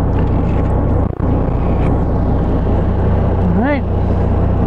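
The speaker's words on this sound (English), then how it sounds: "Now I'm going to back the boat back up." A boat's engine drones steadily in reverse while being backed up to a dock, a loud continuous low rumble with wind buffeting the microphone and a brief dip partway through.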